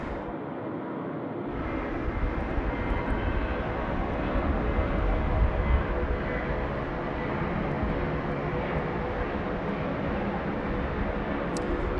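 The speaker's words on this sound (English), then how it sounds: "The Virgin 737-800 gets away off there at 16 right." A Virgin Boeing 737-800 takes off at night from Sydney Airport's runway 16 right, its engines building to a loud, sustained broadband roar that holds steady, heard from a distance without any talking.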